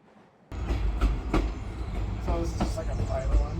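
A 110-year-old passenger car on the Chehalis Centralia railroad rolls along the rails, a steady close rumble with rhythmic clicks and faint squeals beginning abruptly and continuing throughout.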